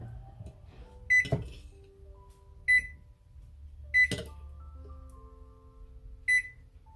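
An oven timer is set while a cheese pizza bakes at 425 degrees. Four short, sharp electronic beeps come at uneven intervals, with soft clicks and kitchen clatter between them in a quiet room.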